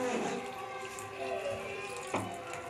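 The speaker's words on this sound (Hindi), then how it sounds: "ये देखो पानी डाल रही हूँ मैं, लगेगा उतना पानी डालूंगी।" Water is poured into a jug while a Konkani sakroli dish is prepared, a short bright splashing trickle close by, with someone talking over it.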